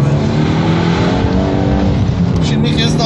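A Peugeot 308 GTi 272 HP engine pulls hard in sport mode, its loud, continuous drone rising steadily from inside the car as it accelerates.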